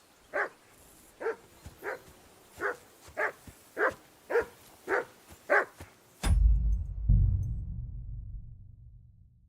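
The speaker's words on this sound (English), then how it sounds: "Call off that damn dog before he wolfs down the last of our mates." In Kingdom Come: Deliverance 2, a dog barks nine times in an even, steady rhythm, clear and fairly close, then a heavy rumbling crash takes over and slowly fades.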